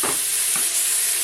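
Pieces of turkey sizzle steadily in a hot pan as they brown for a curry sauté, a loud continuous frying hiss with a couple of brief stirring scrapes.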